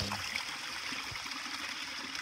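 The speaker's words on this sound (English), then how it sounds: "so this spring run enters the river, creating a little sand delta there" A spring run flows into a river over a small sand delta, giving a soft, continuous trickling and babbling of water that sounds steady and fairly close.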